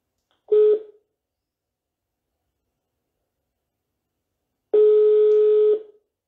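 Phone line tones during a call-back attempt: a short single tone, a long silence, then a second, longer tone of about a second, clean and close with nothing else around them.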